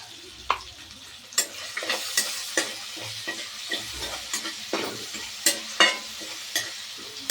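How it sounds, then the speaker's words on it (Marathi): Tomatoes fry in a pan with salt, a low sizzle running underneath as a spoon stirs them with repeated scraping knocks at an uneven pace. "टमाटर चांगलं तळू द्यायचं"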